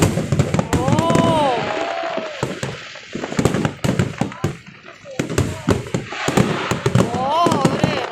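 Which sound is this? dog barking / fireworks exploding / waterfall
fireworks exploding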